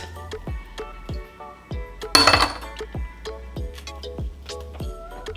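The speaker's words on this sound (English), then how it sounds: "I'm gonna take my ice cubes and I'm gonna stick" Ice cubes dropped one after another into a glass for an iced Nespresso coconut coffee, producing sharp close clinks at an uneven rhythm, with one louder clattering tumble partway through.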